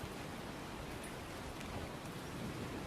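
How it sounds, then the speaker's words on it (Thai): Light rain falls steadily at Kamala Beach in Phuket as an even, soft hiss with no voices over it. "ฝนตกอีกแล้ว นะ"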